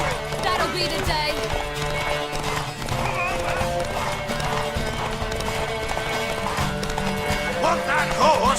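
In The Witcher 3 video game, a horse gallops with rapid clip-clopping hooves and lets out a loud whinny, mixed with in-game voices talking and background music throughout.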